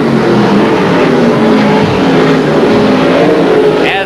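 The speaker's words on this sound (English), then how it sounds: "Here comes Beckman in the 4X car, left front way off the ground in that number 1 corner." Race cars roar continuously at Midwest Speedway in Lincoln, Nebraska, during a 1983 oval race, a loud, dense engine drone with shifting revs as the cars go through the corners.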